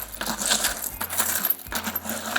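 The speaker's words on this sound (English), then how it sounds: "Now we just stir our shards for a good even mix." Broken shards stirred together for a DIY cement mix give a continuous clinking, scraping rattle, close and fairly loud, with a few sharper knocks and no voices.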